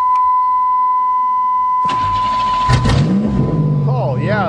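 A 1990 Buick Century, not started since January, cranks and fires up after a steady warning beep, then revs loudly and close, with a person speaking over the engine.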